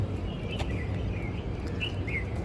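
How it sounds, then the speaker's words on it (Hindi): Several birds chirp in short, high tweets over a low rumbling outdoor background. "चिड़िया की आवाज़ सुनो"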